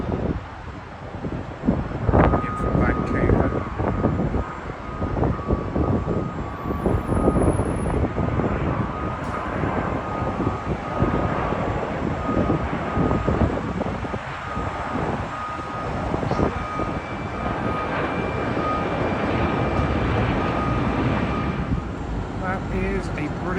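A British Airways Airbus A350 jet arriving from Vancouver at London Heathrow, its steady engine roar holding through the whole stretch with wind buffeting the microphone and a voice talking over it.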